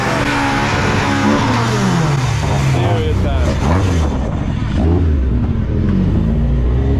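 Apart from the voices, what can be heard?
rally car engine revving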